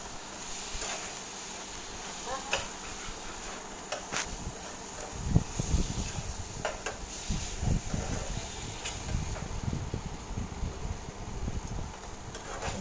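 Curry is stirred and sautéed in a pan, giving a steady sizzling hiss with irregular scraping and clattering that grows busier partway through, while someone talks over it.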